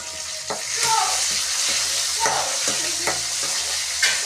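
Tomatoes frying in a pan for a Kerala-style curry, with a strong continuous sizzle and hiss and periodic stirring knocks and scrapes from a spoon, close and fairly loud.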